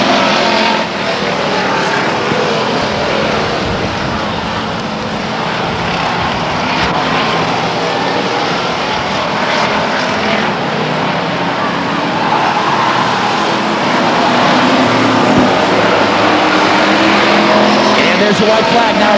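Stock cars roar around the Stockton 99 Speedway oval, a loud continuous engine drone from a field of racers that swells and shifts as they pass, with crowd and track noise throughout and a commentator's voice over the top.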